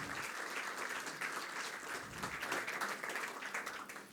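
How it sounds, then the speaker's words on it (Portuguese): A conference audience at a logistics round-table session claps, and the applause comes as a steady, fairly faint wash of many hands from start to finish. "uma salva de palmas, por favor."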